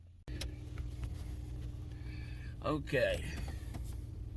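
A cold pickup truck engine idles steadily with a trailer hooked up on a winter morning, a low continuous rumble running throughout while a person speaks briefly near the middle.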